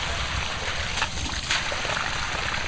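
Water pouring steadily out of a full siphon pipe into a farm field, a constant close rushing and trickling with no speech.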